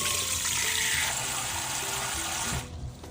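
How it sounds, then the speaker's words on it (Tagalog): Tap water runs steadily into a cooking pot holding five eggs, a close, continuous splashing fill that stops abruptly near the end. "Lagyan ng tubig."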